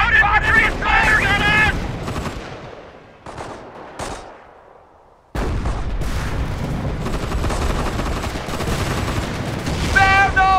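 Dense gunfire and explosions rage through a Company of Heroes D-Day campaign battle, with loud sustained shots and booms, a brief lull midway, then the barrage resumes at full intensity.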